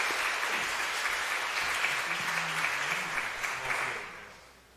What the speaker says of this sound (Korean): 자, 우리 박수합니다.